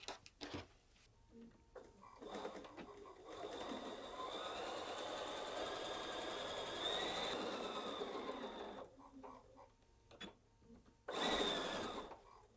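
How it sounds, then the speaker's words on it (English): A sewing machine stitches a tote bag seam, starting and ending with a back tack. Quiet clicks come first, then a steady close-up whir runs for several seconds, pauses, and finishes with a short burst. "I'm going to start at the bottom, back tack, so all the way to the top and back tack again"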